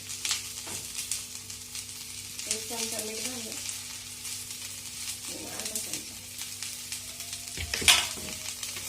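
Okra (bhindi) fries in a pan with a constant close sizzle. Stirring scrapes come through it and one sharp clatter sounds near the end.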